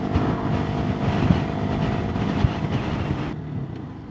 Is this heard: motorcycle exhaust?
yes